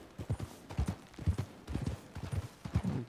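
Horse hooves clip-clopping on a mountain trail in Red Dead Redemption 2, a steady close rhythm of uneven hoofbeats from more than one horse, heard alone without talk.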